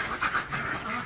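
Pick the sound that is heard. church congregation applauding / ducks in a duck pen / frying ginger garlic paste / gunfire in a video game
ducks in a duck pen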